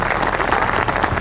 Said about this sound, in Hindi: जिसके हाथ में बीमारी नहीं होगी वही ताली बजाता है जोरदार